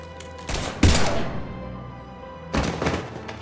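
Gunfire in Mass Effect 3 on Omega: two separate bursts of shots with booming thuds, the second softer, over a faint background hum.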